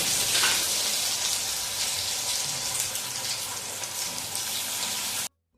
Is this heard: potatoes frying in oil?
yes